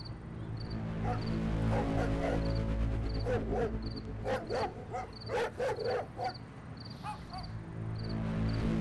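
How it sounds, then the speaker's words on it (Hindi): Several sharp dog barks and yips come in quick bursts over a steady chorus of crickets, fairly close in a quiet night setting. "तेरी क्यों जान निकल जाती है कुत्ते की आवाज सुन के?"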